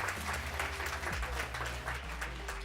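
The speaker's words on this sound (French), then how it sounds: "On peut applaudir tout le monde." An audience at a business school presentation applauds with a continuous wash of clapping. It is moderately quiet and steady, with a low hum underneath.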